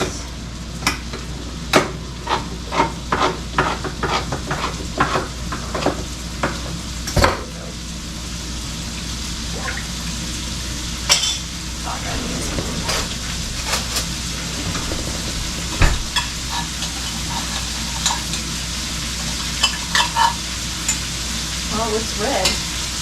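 Elk steak frying in a pan with tomato sauce, a steady sizzle broken by repeated sharp scrapes and knocks of a utensil stirring against the pan, close and fairly loud with no talking.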